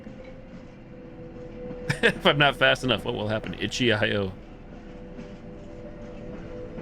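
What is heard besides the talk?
moving train in video game The Derailed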